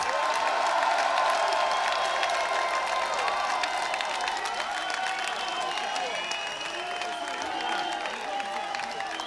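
Crowd applauding and cheering for a DJ at an outdoor techno party at LaPlage de Glazart in Paris, a dense, steady wash of clapping and voices lasting throughout and fading slightly toward the end.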